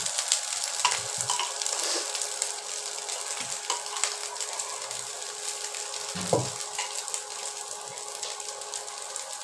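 Rice being stir-fried in a pan for Bengali egg chicken pulao, a steady close sizzle and hiss of frying with occasional scraping and stirring knocks, no voices.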